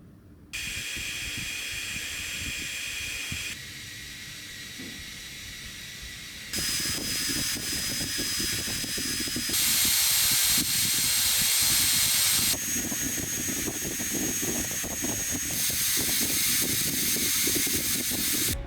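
A JisuLife Ultra1 camping fan runs alone in a steady airy whoosh with a faint whine, stepping up through several speed levels and growing louder and brighter with each change.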